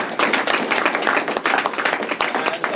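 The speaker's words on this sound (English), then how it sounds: "please give a round of applause to our" An audience at a university talk claps loudly and steadily, with a brisk, dense patter of many hands sustained for nearly three seconds and individual sharp claps standing out near the front.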